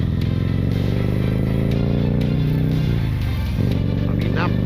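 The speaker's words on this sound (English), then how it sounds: "that pipe sounds amazing on this bike" Harley-Davidson motorcycle exhaust pipes rumbling loud and close, a continuous deep throaty idle with slight rev changes and clatter throughout.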